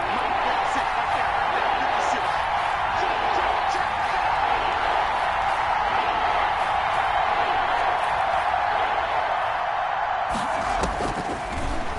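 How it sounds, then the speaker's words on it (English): A stadium crowd in a PS4 American football video game roars continuously at full volume ahead of a big third down, a dense unbroken wash of cheering that swells slightly near the end. "the crowd getting into it as we come up on a big third down"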